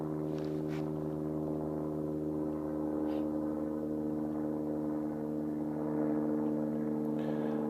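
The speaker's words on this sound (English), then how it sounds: "Wait, that's a helicopter." A helicopter passes overhead near a golf course in Queenstown, its steady low rotor drone filling the air continuously and swelling slightly toward the end, with no talk over it.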